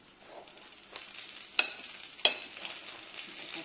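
Diet stuffed envelopes frying in a pan make a quiet, even sizzle, broken by two sharp clicks of handling partway through.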